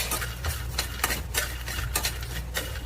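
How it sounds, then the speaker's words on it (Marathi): Roasted chickpeas (futane) being stirred in a pan for a village-style chicken curry, with rhythmic scraping and rattling strokes of a spoon about every half second, close and clear with no talk. "त्यामध्ये आपण जे फुटाणे जे घेतले होते ते घालून घेऊया आणि भाजून घेऊया"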